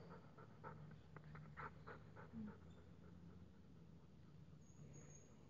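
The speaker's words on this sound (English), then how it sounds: "I apologize, there may be a few minutes of loud panting here." A stray dog pants loudly and close by during a yoga session, quick rhythmic breaths in short bursts that fade into quieter panting toward the end.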